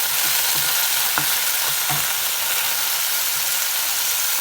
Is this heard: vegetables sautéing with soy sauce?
yes